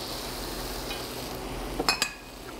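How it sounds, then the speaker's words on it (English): Breadcrumbs warmed with vinegar are stirred and sautéed in a pan, giving a soft steady sizzle with a couple of light utensil clinks toward the end, with no talking. "We want to stir and mix the breadcrumbs so they get evenly coated, and then we're going to continue to saute them until lightly browned."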